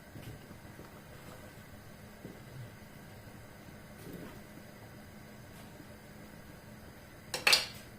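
A pot being washed after boiling in a home kitchen, with faint scraping and rinsing under low background noise and a brief, sharper metallic clatter near the end.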